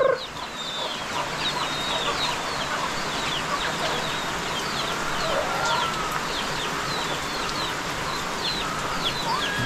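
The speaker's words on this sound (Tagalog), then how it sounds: "ito yung mga manok" Chickens cluck and call over a steady wash of rain, with scattered chirping bird calls throughout; no talking.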